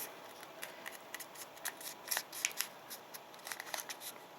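Paper creased and folded while making an origami stork, heard as soft, close crinkles and brushing rustles in short bursts, fairly faint in a quiet room.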